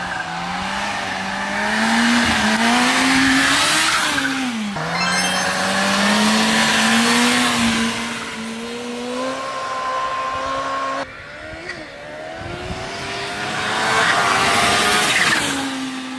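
A Kawasaki motorcycle engine revs hard and close, rising and falling in several sustained surges with brief breaks, loud and alone without voices.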